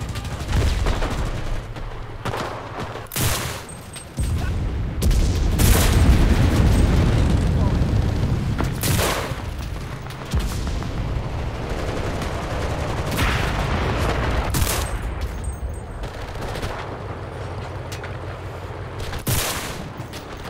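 Gunfire in the shooter game Enlisted: sharp loud shots and bursts come at irregular intervals, with rumbling battle noise between them and someone talking over parts of it.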